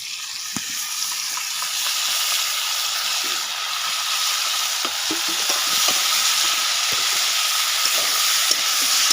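Young jackfruit frying with a ginger, garlic, tomato and cumin paste, a steady bright sizzle close by, punctuated by frequent spatula scrapes and taps as it is stirred.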